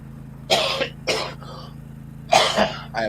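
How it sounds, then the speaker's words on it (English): Outdoors in a green spring grove, a person coughs and clears the throat in a few close bursts, with a steady low hum running underneath and no speech. "I apologize for the coughing."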